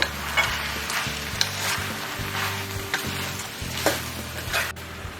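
A spoon stirs ginger powder, cumin powder and sugar into green tomato chutney in a hot pan, with repeated scraping strokes over a constant low sizzle, close by and without speech.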